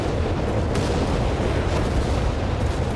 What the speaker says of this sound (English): Delayed fuse barrage there.